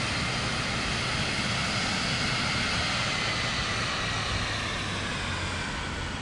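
An aircraft engine running up in Microsoft Flight Simulator 2024, a loud, constant, broad roar with a low hum underneath that holds steady throughout.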